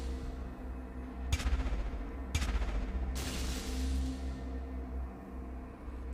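Gunfire in the VR shooter Of Lies and Rain: two sharp shots about a second apart, then a longer burst, set against a steady low game hum with no talk.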